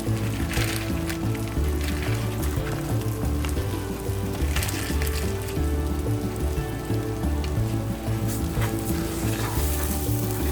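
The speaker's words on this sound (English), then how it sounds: "I'm going to mix my rice in with that oil and coat it" Rice sizzling and frying in a small amount of oil in a pan while being stirred, a continuous loud crackling hiss with scraping stir sounds throughout, no talking.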